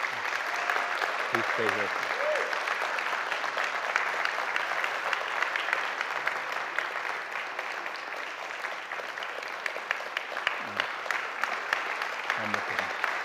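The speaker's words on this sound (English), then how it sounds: "And let's give a round of applause, please." A church congregation gives a sustained round of applause at a Sunday service, steady and full throughout, with a few brief spoken words from people nearby.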